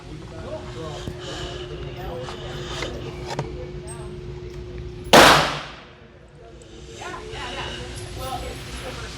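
A single sharp, loud crack of a 5.56 round fired from a short-barrel AR pistol with UTG Pro gear outdoors, ringing briefly and fading, with someone talking before and after.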